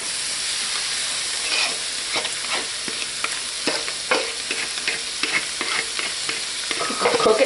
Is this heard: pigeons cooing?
no